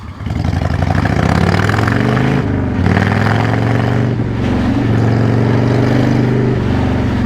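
A 1996 Harley-Davidson FLSTF FatBoy riding in slow city traffic near the Brooklyn Bridge, its V-twin engine idling and revving in a steady close drone with brief throttle changes and shifts.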